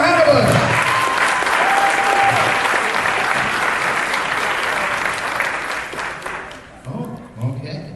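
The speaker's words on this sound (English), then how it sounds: "round of applause for Hannah Bush" Loud, sustained applause from a crowd at a fan convention costume contest for an entrant, running steadily for about seven seconds before tapering off into scattered claps and murmurs.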